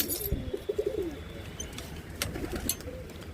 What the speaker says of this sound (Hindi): यहाँ पर उड़ रहा है एक कबूतर हमारा।